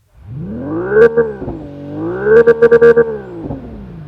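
A Hyundai IONIQ 6N, a 640 bhp electric car, is revved through its simulated engine sound. The loud synthetic tone swells, dips and rises again, with a quick run of sharp pulses near the peak.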